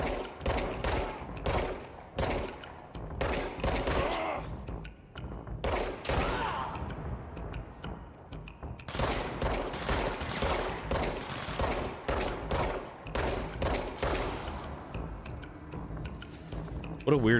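A strange weapon with infinite ammo fires repeatedly in the video game Control, sharp bursts and rapid volleys of gunfire coming in clustered bursts with brief gaps, with mechanical clanks mixed in and someone talking now and then.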